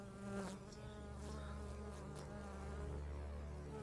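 A wasp or bee buzzes steadily in the Dead Rising 3 game, a close, continuous droning hum set over faint background game sounds, with no voices.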